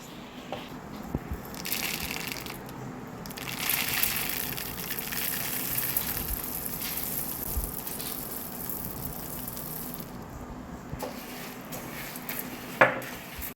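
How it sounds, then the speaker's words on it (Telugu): Coriander seeds and broken cashews dry-roasting together in a pan for a homemade masala blend, giving a steady soft sizzling rush with occasional faint scrapes and a sharp clink near the end. "ఇప్పుడు మనం 100 గ్రాములు ధనియాలు వేసుకుందాం."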